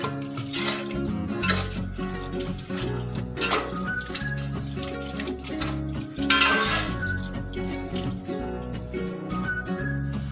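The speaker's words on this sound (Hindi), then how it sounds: "इसको सही से हिला लेंगे, मिक्स कर लेंगे।" Metal utensils scrape and clink against a pot of meat and salted water for Afghan pulao in an irregular stirring rhythm, close by, with no talking.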